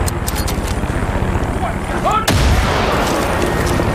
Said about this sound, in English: A well-placed grenade takes out most of them.